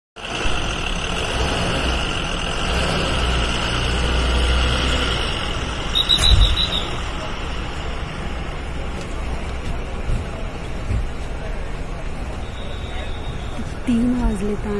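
Bus travelling on the road from Pune toward Kolhapur, a steady loud engine and road rumble from inside the cabin with wind noise, continuous throughout with a brief clatter midway.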